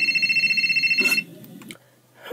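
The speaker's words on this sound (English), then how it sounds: "Who am I kidding? It's somebody's phone." A mobile phone rings in a cinema, a loud, rapidly pulsing ring tone that cuts off abruptly, leaving faint noise behind.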